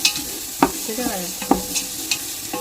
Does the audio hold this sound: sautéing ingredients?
yes